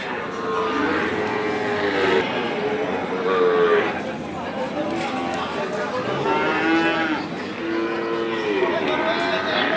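Cattle lowing repeatedly at a crowded livestock market on the day after Eid, loud overlapping moos close by over a constant murmur of people talking.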